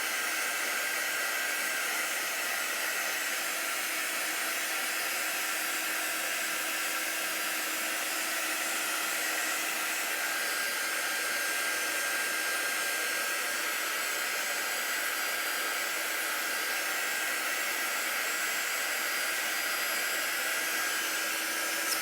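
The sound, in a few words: heat tool heat-setting ink on a fleece sweatshirt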